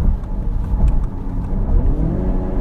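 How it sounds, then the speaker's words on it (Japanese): An Audi TT Coupe 2.0 TFSI quattro accelerates with a deep, steady engine drone and road rumble, heard loud from inside the car with no talking. "ちょっとアクセル強く踏んでみましょう。"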